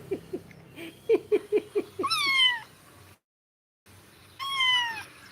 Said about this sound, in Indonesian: Anak kucing meong meong